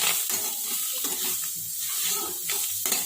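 Ground spices with turmeric, chili powder and black pepper stirred in a hot pan for chicken bharta, a continuous bright sizzle with scraping stirs, close and fairly loud, no talking.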